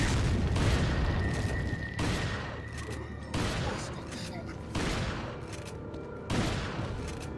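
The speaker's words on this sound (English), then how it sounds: "And shotgun." Video game shotgun blasts boom at a steady pace, about one every second and a half, each a loud broadband crack that fades into a rumbling tail, with a person talking underneath.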